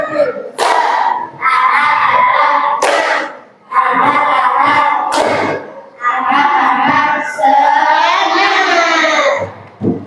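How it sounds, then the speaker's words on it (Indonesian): A school class claps together in a spirited rhythmic routine, sharp loud group claps at uneven intervals mixed with children chanting in unison in a classroom. "kita tepuk semangat dulu ya. 2 kali tepuk semangat"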